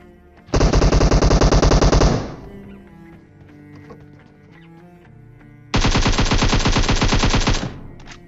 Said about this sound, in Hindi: एक भाई साहब पता नहीं किस पर फायर कर रहे होते हैं।